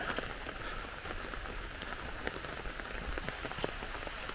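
Steady rain pours on outdoor surfaces in Białystok, eastern Poland, a dense continuous hiss with scattered sharper drop ticks throughout, no voices over it.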